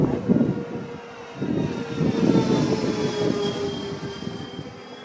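An electric-powered RC B-24 Liberator warbird model with a 110-inch wingspan flies over a dry lake bed, its motors giving a steady droning hum that swells and fades slightly as it passes, with no talking.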